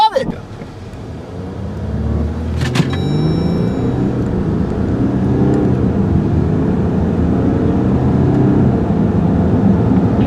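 A 2014 Jeep Grand Cherokee diesel pulls hard from a standstill through its 8-speed automatic, a loud, close engine drone rising and dropping at quick shifts, with a short electronic chime early on.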